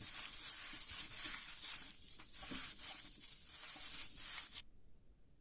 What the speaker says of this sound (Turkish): Şimdi bunu soğanımız çiğden olduğu için biraz ovalayalım.